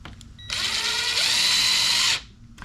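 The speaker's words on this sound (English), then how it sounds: "I'm gonna start screwing it in from this side" Power drill driving a screw to fasten side skirt trim onto a Tesla Model Y, one close whining run of about a second and a half that rises slightly in pitch, then stops.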